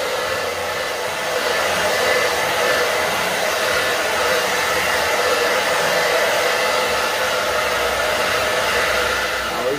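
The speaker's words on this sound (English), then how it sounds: "I'm gonna take my hair dryer and I'm gonna pass it through my drum" A hair dryer blows steadily and close by for about ten seconds, heating the skin of a shamanic drum to tighten it, a continuous broadband whoosh with no talking.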